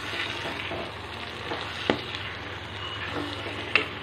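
Goat intestine fry with pepper-cumin powder and curry leaves sizzles steadily in a pan as it is stirred, with two sharp spatula clinks against the metal.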